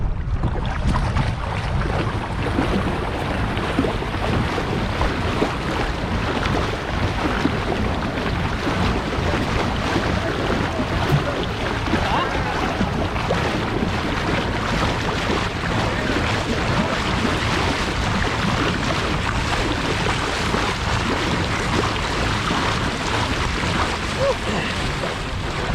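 Old Town Sportsman 120 PDL pedal kayaks race past a boat on open water, heard as constant wind buffeting and splashing water rushing close to the microphone throughout, loud and unbroken.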